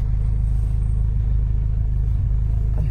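A Honda VTEC-engined car idles and rumbles with a steady, loud low-frequency drone heard from close by, without any clear rev or change in pitch.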